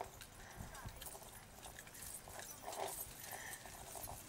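Faint rhythmic clip-clop of horse hooves on a hard surface during a mounted soldiers' drill display at Old Sarum, mixed with low background voices and outdoor noise.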